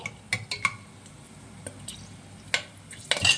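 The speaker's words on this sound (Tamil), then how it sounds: "நல்லா பொரியுது. வந்து பட்டை லவங்கெல்லாம் நல்லா பொரிஞ்சிருச்சு" Whole cinnamon, cloves and cardamom fry in hot oil for a fish biryani, giving scattered sharp pops and crackles over a low steady sizzle, close and moderately loud, with no talking.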